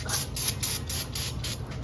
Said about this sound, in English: Got a little bit of this carburetor here cleaner left, so I'm just gonna go along here, spray all that down